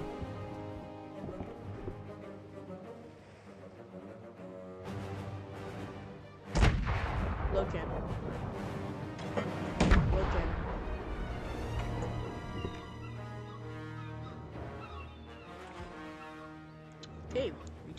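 Mortar ship firing in the VR sailing game Sail VR: two heavy booming blasts land several seconds apart over a layer of rumbling music and game noise, each one loud with a long, ringing decay.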